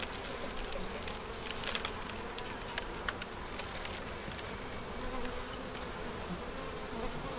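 Honey bees hum steadily around an open nucleus hive during a beekeeping inspection, a close, continuous buzzing drone with individual bees flitting past.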